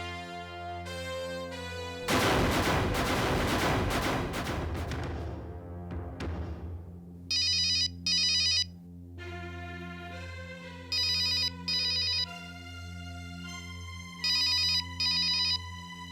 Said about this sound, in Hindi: चांदनी का मोबाइल?